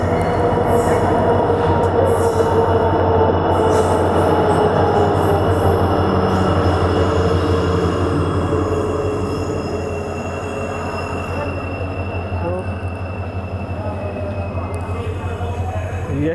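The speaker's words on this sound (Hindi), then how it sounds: "एक्सप्रेस के साथ हमारी ये सेकंड क्रॉसिंग है" The Yesvantpur–Vijayapura Express rolls past at a crossing in India with a loud, continuous rumble of wheels on rails and faint metallic squeals, heard close from an adjacent train and easing slightly toward the end.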